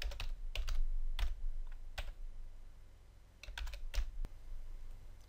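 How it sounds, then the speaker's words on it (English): Values are typed on a computer keyboard in quick, irregular bursts of close, crisp key clicks, with short pauses between the groups of keystrokes. "and then I've got to type in my four values."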